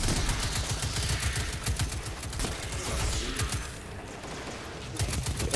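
An auto rifle fires in the Destiny 2 video game, loosing fast repeated bursts of gunfire that crackle densely with short gaps between volleys and no voices over them.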